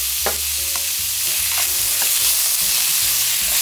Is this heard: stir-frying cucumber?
yes